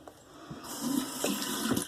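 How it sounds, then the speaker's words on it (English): Water is splashed into a shaving soap lather worked with a synthetic brush from a wet-shaving starter kit, a brief close trickle and splash lasting under two seconds. "Add a little bit more water."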